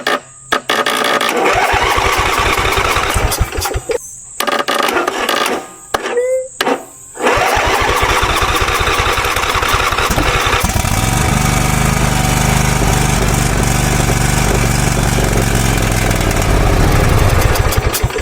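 A lawnmower engine left abandoned for a year is cranked to start, then catches and runs loudly and steadily near the microphone, with a few brief pauses early on and some voices talking over it.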